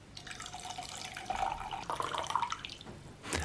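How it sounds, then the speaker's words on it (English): Hydrochloric acid is poured into a beaker of copper pieces, a close, short trickling pour with a thin liquid stream and small splashes for about three seconds. "we can put it in a beaker and add some hydrochloric acid."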